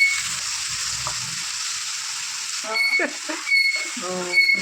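Onions sauté in a pan for fish molee, a steady hiss and sizzle heard close by, joined later by bright chirping and a voice that sounds like a talking parrot.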